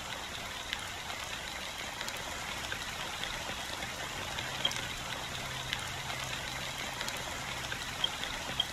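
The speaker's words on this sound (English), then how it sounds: "how long has this rain been going on for?" Steady rain falls in the Honkai Star Rail video game's Penacony setting, a constant even hiss of pouring water with faint scattered drips, heard alone without speech.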